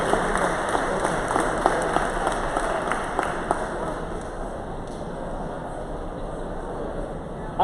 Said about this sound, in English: Let's give one more round of applause to Secretary Sonny Perdue